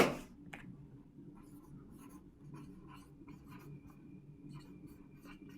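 Chalk or marker writing on a board in a classroom lesson, heard as a series of short, faint scratchy strokes at an uneven rhythm after a brief louder knock at the start, in a quiet room.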